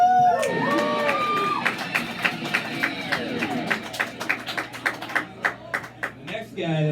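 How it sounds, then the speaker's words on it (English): A comedy show audience at Live @ 212 cheers and claps loudly, then fades into scattered individual claps over about seven seconds. "One more round of applause."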